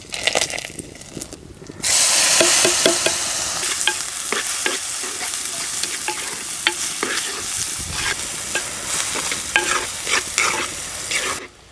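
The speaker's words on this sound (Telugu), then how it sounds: "ఇప్పుడు అదే నూనెలో 2 బిర్యానీ ఆకు అలాగే 2 ఉల్లిపాయలు కూడా వేసుకుందాం." Bay leaves and onions frying in hot oil for a dhaba-style cashew tomato curry, a loud steady sizzle that jumps up after a quieter start, with scattered clinks and scrapes of stirring throughout and no talk.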